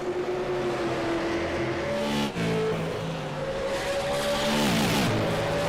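Race cars at speed on the North Wilkesboro Speedway oval during a 125-lap SARA Pierce Fleet Super Series event, a steady loud engine drone with rising and falling pitch sweeps as cars pass close by.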